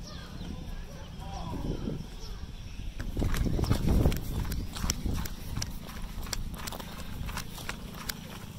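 A cow walks along a road at Kulen National Park in Cambodia, its hooves tapping in an uneven clip-clop that grows louder in the middle, while people talk nearby.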